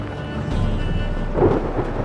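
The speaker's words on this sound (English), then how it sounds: "A storm, damn it." Thunderstorm in the video game The Witcher 3: a deep rolling rumble of thunder swelling over a steady wash of rain, loud and close, with no voices.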